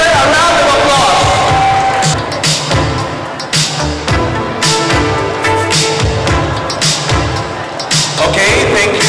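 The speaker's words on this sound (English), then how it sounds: "can you give them a round of applause?" Audience in a hall at a coronation night pageant applauding and cheering, a loud sustained crowd roar with clapping bursts and shouts, an announcer's voice speaking over it.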